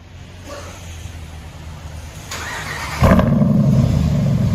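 A 2021 RAM 1500 Big Horn with a 5.7L HEMI V8 and straight-pipe true dual exhaust idles low and rumbling, then jumps sharply into a louder, raspy exhaust roar that holds steady near the microphone.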